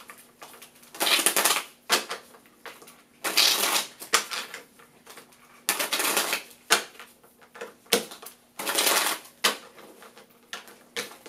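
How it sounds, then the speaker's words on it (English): Tarot cards being riffle-shuffled in several quick bursts separated by short pauses, crisp and close, with no talking. "So we're going to shuffle some tarot cards to look into that."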